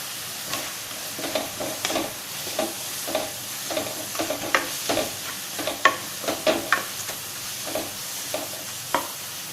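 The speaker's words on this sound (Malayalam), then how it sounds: "ഇനി ഇത് നന്നായിട്ടൊന്ന് ഇളക്കി കൊടുക്കാം കേട്ടോ." Soya chunks are stirred while dry-roasting in a pan, and the spoon scrapes and knocks in irregular bursts over a low sizzle, close and fairly loud.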